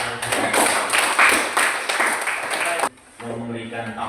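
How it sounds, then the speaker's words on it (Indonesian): A classroom audience applauds after a group presentation, with brisk, dense clapping for nearly three seconds before it cuts off, followed by quieter room sound. "Kita berikan tepuk tangan."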